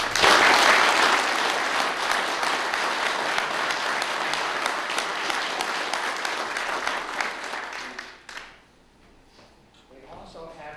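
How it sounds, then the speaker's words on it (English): A lodge hall audience applauds the brethren at a building dedication with sustained, dense clapping that fills the room for about eight seconds, then fades to scattered claps and faint murmuring. "Let's give these brethren a round of applause."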